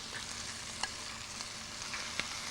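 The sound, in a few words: fried chicken sizzling in a frying pan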